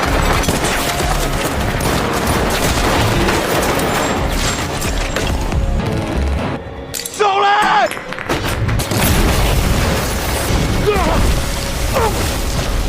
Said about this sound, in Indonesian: Mereka saling beradu tembak satu sama lain